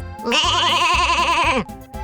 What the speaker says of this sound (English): Kids, do you know which animal goes bah? It's the sheep!